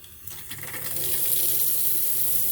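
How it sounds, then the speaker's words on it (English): Water gushing from a newly installed bathroom faucet into the sink, starting with a few knocks and sputters as air clears from the line, then settling into a steady, loud, full-pressure stream. "Look at that water pressure. That air out of the line."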